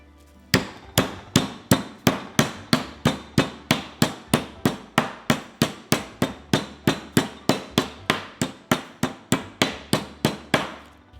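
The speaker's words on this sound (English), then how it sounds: "We are going to cut this filet very, very thinly, and then we're going to pound it out even further." Beef filet under plastic wrap is pounded thin for carpaccio, about thirty sharp, evenly spaced thuds in a steady rhythm, loud and close, with no talking.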